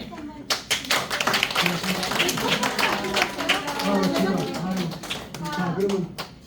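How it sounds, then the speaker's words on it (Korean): An audience at a caregiver training session claps for a director, a burst of clustered hand claps running throughout while voices call out and chatter over it. "우리 주연들 원장님한테 박수 한번"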